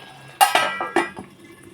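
A lid settles onto a metal pot of Bhagna fish curry with a quick run of four or five close metallic clanks and clinks over about a second, then quiet.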